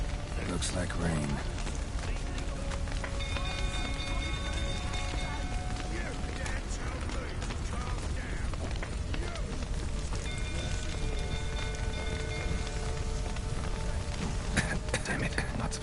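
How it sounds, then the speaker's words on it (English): Rainfall in the video game The Witcher 3, a steady unbroken hiss of rain that stays at one level throughout, with faint tonal game sounds drifting in and out beneath it. "Looks like rain."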